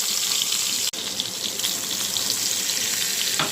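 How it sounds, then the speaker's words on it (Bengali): Spice paste of cumin, chilli and turmeric for a fish curry frying in a pan with a splash of water, a loud steady sizzle with one sharp tap near the start. "অল্প একটু জল দিয়ে দিলাম মশলাটা কষানোর জন্য"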